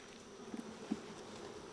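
Honey bees drone softly in a packed hive, a faint continuous buzz with a couple of brief louder passes near the listener.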